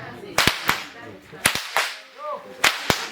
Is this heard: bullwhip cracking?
yes